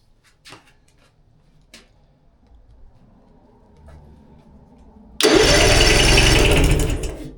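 A sailboat's small engine, fitted with a new starter solenoid, stays quiet through a few faint clicks and knocks, then suddenly fires up and runs loud and steady for the last couple of seconds.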